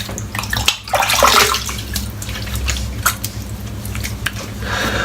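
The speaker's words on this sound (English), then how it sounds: "Now I'm going to lather up again." A natural hair shaving brush works soap into lather with wet, squishy swirling and dabbing sounds, close and steady throughout, with no talk.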